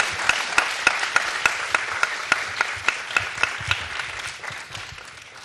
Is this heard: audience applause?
yes